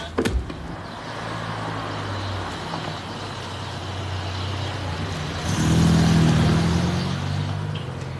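A car engine hums steadily from inside the vehicle as it is driven, with a low rumble that swells louder and deeper partway through as it accelerates, and no talking.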